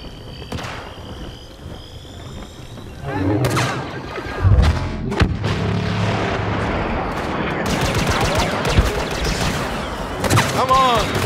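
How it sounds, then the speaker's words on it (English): Blaster fire crackles and thumps in a Star Wars Battlefront battle as dense, overlapping volleys and impacts, with voices in game speaking over the noisy fight. "Who wants some blaster fire?"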